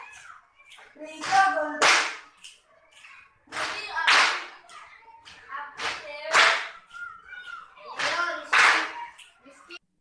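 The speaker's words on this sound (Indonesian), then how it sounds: "Jadi itulah tepuk konsentrasi." Children in an online class perform a concentration clapping routine, four bursts of rhythmic hand claps in a repeating pattern, each set with chanting voices, separated by short pauses.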